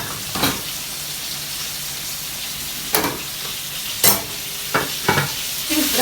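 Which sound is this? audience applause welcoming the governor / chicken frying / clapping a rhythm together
chicken frying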